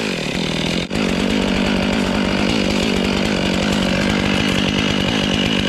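A big Stihl chainsaw roars at steady high revs while cutting a tree stump down low during land clearing, loud and close throughout, with one brief dip in engine sound near the start.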